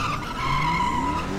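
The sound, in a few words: police car skidding after PIT maneuver in video game GTA V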